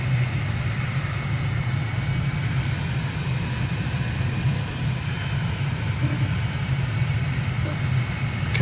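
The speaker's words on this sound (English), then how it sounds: "We're going to do a rolling takeoff" Steady, loud aircraft engine drone from Microsoft Flight Simulator during a rolling takeoff on runway 26 in Stockholm, Sweden, a continuous roar with a faint high whine and no talking over it.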